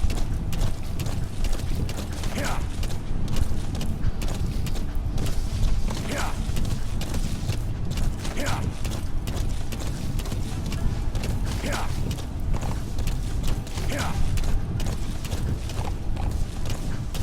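Horse hooves clip-clop at a steady gallop in Metal Gear Solid V, loud and continuous, with occasional creaks and a faint whinny-like swell throughout.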